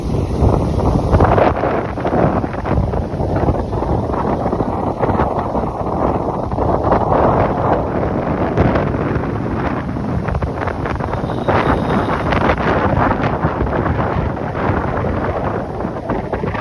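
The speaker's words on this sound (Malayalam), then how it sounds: "നല്ല കാറ്റ് വരുന്നുണ്ട്" Strong wind roars and buffets the microphone in continuous gusts, a loud rushing noise with no speech.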